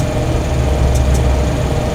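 A Fokker F27 turboprop engine spools up in a Prepar3D flight simulator, a loud continuous low rumble and whine holding steady, with no talk over it.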